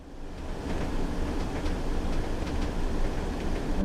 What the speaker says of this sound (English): is riding a train in the countryside